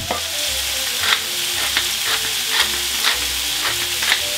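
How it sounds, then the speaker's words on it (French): Half-cooked shrimp sizzle loudly in a pan for shrimp pasta while being turned one by one, sharp regular clicks and scrapes of the utensil recurring about every half second over the frying hiss. "Les crevettes sont mi-cuites, crevettes tournent. On les tourne une par une."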